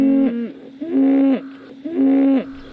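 Organic dairy cattle moo three times in a steady rhythm, each call a long, loud, close bellow with a short pause between, with no other sound.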